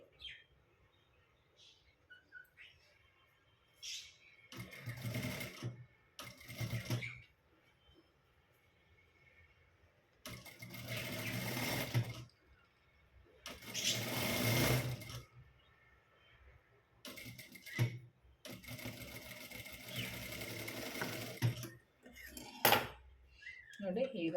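Sewing machine stitching back and forth to lock a seam while attaching a shoulder strap, running in several short separate bursts with quiet pauses between them.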